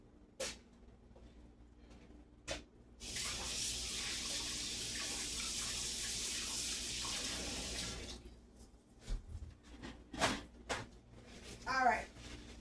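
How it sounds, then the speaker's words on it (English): Tap water runs steadily into a kitchen sink during handwashing while preparing salmon hash, a broad continuous gush for about five seconds, then handling clatter and brief rinsing splashes afterward, with no talk over the flow. "let me go wash my hands real quick"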